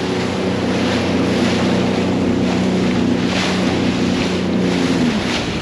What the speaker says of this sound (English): the waves are much bigger going back this way now